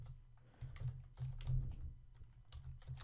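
Typing code on a computer keyboard during a jQuery Ajax programming session: soft, close, irregular key clicks in quick bursts that carry on steadily, with no one speaking.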